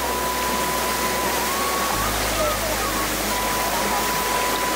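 A mountain stream rushes and splashes in a steady, loud, broadband wash of flowing water that fills the whole stretch with no pauses.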